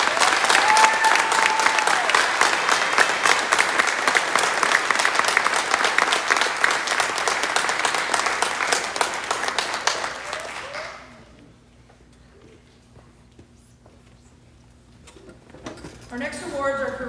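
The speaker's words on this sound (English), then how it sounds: "Let's give them a big round of applause." Sustained applause from an audience at a high school senior awards night fills the first ten seconds at steady volume, then drops away to near silence, with faint voices stirring near the end.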